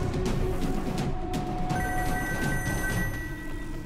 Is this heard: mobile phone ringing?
yes